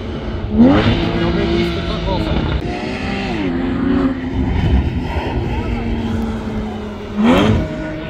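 Porsche Boxster engine revving hard while drifting at a car meet in Germany, with rising and falling engine pitch and tyre-squealing bursts, loud and near, with people talking over it.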